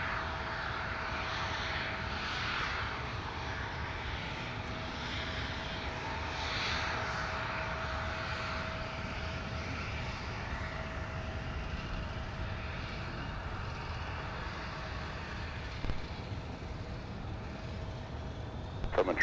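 A jet airliner lands on runway 12 right at Minneapolis–Saint Paul airport, a steady distant engine roar with a faint whine that holds throughout, with faint speech-like sounds occasionally underneath.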